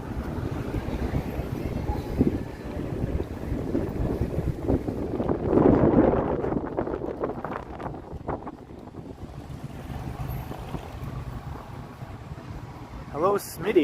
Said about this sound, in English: It is a bit windy though